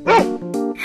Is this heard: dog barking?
yes